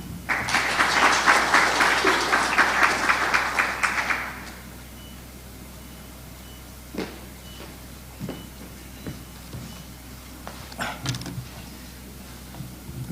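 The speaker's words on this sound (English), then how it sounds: "A clap, please." Audience applause at an East Africa investment conference, a dense burst of clapping for about four seconds that then stops, followed by quiet room noise with a few scattered knocks.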